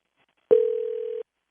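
A single steady telephone tone sounds for about three-quarters of a second while a call is being placed, a clean sustained beep that starts abruptly and cuts off cleanly in silence.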